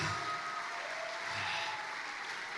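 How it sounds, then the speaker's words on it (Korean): Applause from a worship-service audience after a stage performance at a Vietnam diaspora prayer gathering, a steady dense wash of clapping throughout with no voices on top. "저분을 다시 한번 뜨거운 박수 부탁드리겠습니다"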